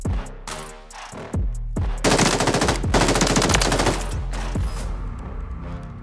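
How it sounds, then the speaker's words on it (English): Loud, rapid bursts of automatic gunfire with a few heavy single shots in Call of Duty: Warzone, dense and sustained for several seconds, close and booming. "Who's shooting at me? I hear gunshots."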